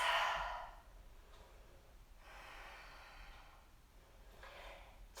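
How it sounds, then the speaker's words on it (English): A soft breath is let out during a yoga stretch: one clear breathy exhale at the start, then fainter airy breaths fading in and out against a quiet room. "Exhale and release."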